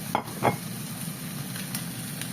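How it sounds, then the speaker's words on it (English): A medley of vegetables sautéing in a pan, a close steady sizzle broken by two quick knocks of a spoon near the start. "we're going to let that saute in"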